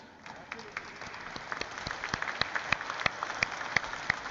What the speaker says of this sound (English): One more round of applause to banta hi hai na, sir?